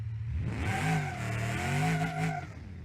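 A car engine revving in BeamNG.drive, held near a 6,500 RPM limit, climbing and sustaining a loud, buzzy high-rev tone for a couple of seconds before easing off.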